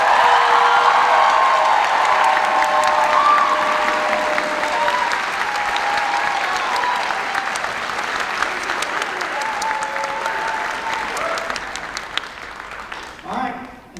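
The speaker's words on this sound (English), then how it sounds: "Would you please give a round of applause to our band booster president, Kelly Verzik." Sustained audience applause for the band booster president at a high school marching band varsity show, loud and dense throughout with some cheering, tapering slightly near the end.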